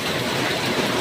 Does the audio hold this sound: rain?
yes